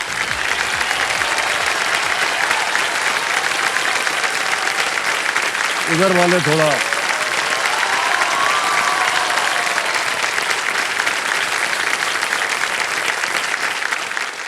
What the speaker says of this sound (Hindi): वो बहुत जोर से ताली बजा रही है।